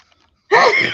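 A single sharp sneeze bursts out after near silence, loud and close.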